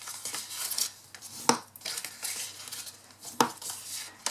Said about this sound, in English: So we're going to make up the base, fold and burnish